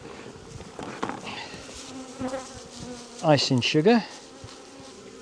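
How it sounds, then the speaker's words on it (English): A cup full of honey bees buzzes steadily close by, a busy insect drone running under a voice talking. "So we've got a cup of bees, simple as that."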